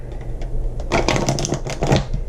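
A Shadowscapes Tarot deck is shuffled by hand at close range, a steady run of dense papery riffling and card slaps with no talking.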